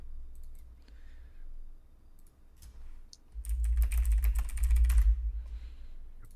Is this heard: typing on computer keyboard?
yes